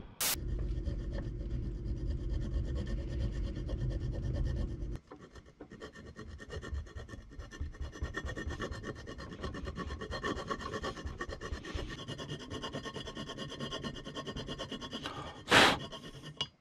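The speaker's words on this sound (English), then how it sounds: "We are finally done with the grinding and filing." A hand file rasps steadily across a Harley-Davidson Sportster chopper's metal cam cover in close, continuous back-and-forth strokes, with one sharper scrape near the end.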